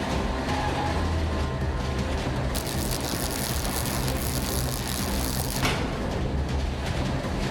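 A cartoon train runs steadily along the track during a robbery scene, a continuous loud rumble and clatter with a brighter hiss joining partway through, no clear talk over it.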